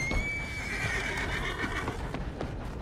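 A horse whinnies in the Red Dead Redemption video game, a long high neigh over steady ambient game sound, with faint hoof clops trailing behind it.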